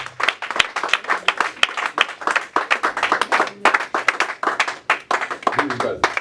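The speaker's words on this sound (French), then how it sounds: "acclame très fort ton Dieu" An audience at a church gala dinner claps and cheers loudly in dense, continuous applause, with voices shouting over it throughout.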